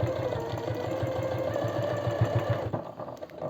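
Sewing machine stitching a leather wallet, a steady close rhythmic run of needle strokes that slows and stops near the end.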